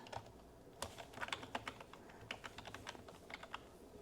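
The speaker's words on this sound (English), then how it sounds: "let me actually type it out for y'all so y'all can understand" Someone types steadily on a computer keyboard nearby, with irregular bursts of key clicks over a low background hum and no voices.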